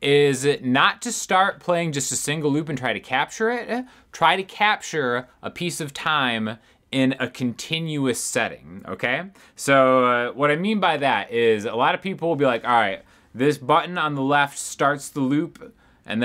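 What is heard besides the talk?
No everyday noises stand out.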